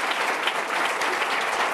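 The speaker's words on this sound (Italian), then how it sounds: "l'applauso al vostro direttore artistico" A crowd at a choir event applauds an artistic director, dense steady clapping filling a short burst with no pause.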